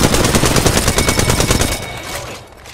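Rapid automatic gunfire in the video game Apex Legends, a loud, dense burst of shots that rattles for nearly two seconds, then cuts off and trails into a fading echo.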